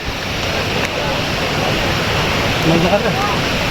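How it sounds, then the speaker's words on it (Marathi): A steady, broad rushing roar of Kalu Waterfall in a Maharashtra jungle fills the scene, constant and loud, with a few faint voices briefly near the end. "इकडे धबधबा आहे."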